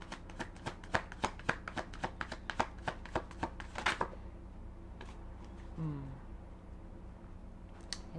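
Tarot cards being shuffled close up in a quick, steady run of crisp riffling taps for about four seconds, then a card is drawn and set down softly, with quiet handling noises afterward.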